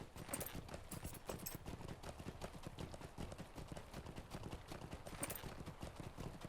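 Horse hooves clip-clopping at a steady riding gait in the LOTRO game, a dense continuous patter of hoofbeats at moderate level with no talking.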